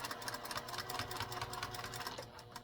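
Sewing machine running a rolled narrow hem with a presser foot, a fast, steady mechanical stitching chatter heard up close with no pauses.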